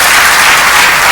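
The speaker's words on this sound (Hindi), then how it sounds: "जोरदार तालियां उनके लिए" A hall audience at the Hymns of Himalaya inauguration claps for Sadhvi Ritambhara, a dense, loud, unbroken wash of applause throughout.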